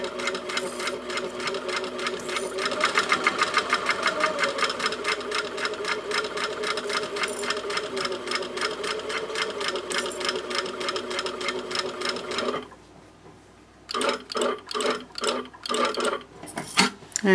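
A sewing machine stitches steadily across the front of a wristlet pouch at a 1/4 inch seam allowance, running in a fast, even rhythm for about twelve seconds, then stopping briefly before a few short start-stop bursts.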